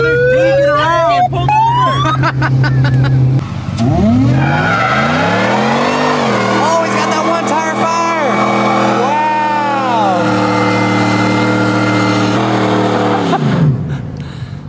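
Cars doing donuts at a car meet, with revving engines and long, loud tire squeals that rise and fall in pitch, sounding near and continuous, with people talking over the noise.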